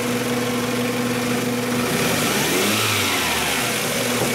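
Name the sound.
Toyota engine being revved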